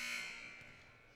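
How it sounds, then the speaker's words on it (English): A basketball game buzzer at a women's college game blares loudly at the start, then decays into a reverberant arena wash with no talk. "There's our second buzzer, and now Sullivan can shoot free throws."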